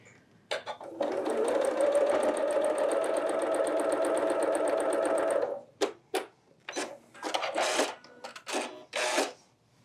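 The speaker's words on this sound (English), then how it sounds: "we are working on the middle and then the sides. We're gonna sew those." Sewing machine stitching quilt block pieces, a steady close rhythmic whir for about five seconds, then a series of short bursts of stitching as the fabric is guided.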